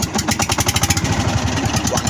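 A small boat engine on a crab-fishing outing chugs into life with a fast, regular putter of pulses, loud and close, running steadily for the short stretch with no speech.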